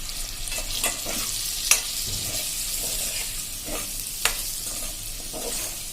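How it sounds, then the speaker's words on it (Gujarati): Masala being stirred into a bitter gourd (karela) curry in a pan, with a spatula making a few distinct scrapes and knocks over a steady sizzling hiss. "હવે એને આપણે બધું મસાલો મિક્સ કરી લેશું"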